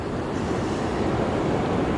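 Ocean surf rushes up a beach during surf fishing, a continuous close wash of breaking water mixed with wind buffeting the microphone.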